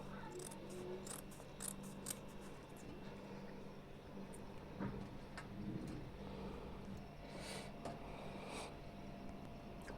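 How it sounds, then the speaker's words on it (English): Scissors snip excess gown fabric at the neckline in a series of faint, quick, irregular cuts over a low background hum. "So I'm going to be cutting out the excess."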